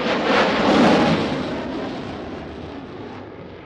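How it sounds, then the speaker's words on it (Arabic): Armed Cessna Caravan military aircraft in a squadron flyover at an army day parade, a loud broad roar that swells in the first second and then slowly fades as the planes pass. "وهذه الطائرات سزنا كرفان مسلحة"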